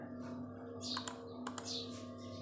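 A computer keyboard clicks with a few sparse, quiet keystrokes over a steady low electrical hum, with no talking.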